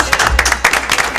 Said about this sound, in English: Let's give Deion a great big round of applause, please.